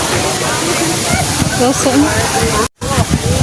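Tumalog Waterfalls rushing in a broad continuous roar, loud and close, with people talking over the water throughout.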